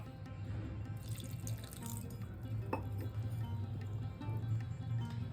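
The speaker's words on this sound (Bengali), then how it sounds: "এবার আমি জল ঢেলে দিচ্ছি।" Water trickles slowly into a bowl of batter for gokul pithe, a continuous close pouring and splashing with small drips and a low gurgle throughout.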